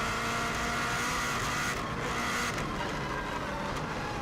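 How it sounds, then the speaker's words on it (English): A 2016 Subaru WRX STI is driven flat out over a bumpy section of the Isle of Man TT road course, its engine roaring loud and steady with constant wind and road rumble from inside the car. "Car bouncing around quite a bit."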